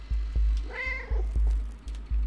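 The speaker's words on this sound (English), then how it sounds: "I like how it nods every time the cat meows." A cat character meows once in the video game Stray, a clear harmonic mew rising and falling over a steady low background of game ambience with rhythmic soft thumps.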